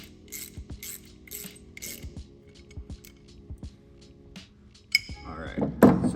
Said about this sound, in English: you're just gonna take your 1/2 inch socket and give this a good crank